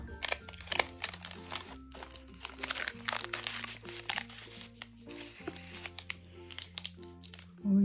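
Crinkly plastic wrapper of a Hello Kitty Bokksu snack box holding wafer cards is torn and crumpled open close by, a busy run of rustles and crackles over a low background hum.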